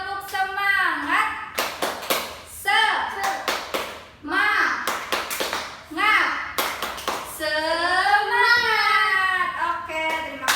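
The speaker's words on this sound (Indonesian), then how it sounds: "1, 2, 3 tepuk. Tepuk semangat." Schoolchildren in a primary classroom perform the rhythmic tepuk semangat clap, sharp bursts of hand claps set between short chanted phrases from the class and a teacher's voice.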